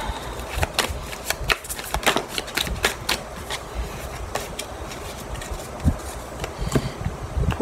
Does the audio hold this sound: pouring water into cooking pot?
no